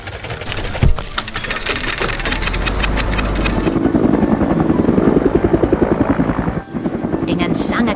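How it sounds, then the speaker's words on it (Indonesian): A red helicopter arrives overhead with a loud, steady rotor chop and engine whine, its blade beats growing more distinct and rhythmic as it draws near and hovers. "Sebuah helikopter merah datang untuk membantu mengangkat temuan bersejarah ini."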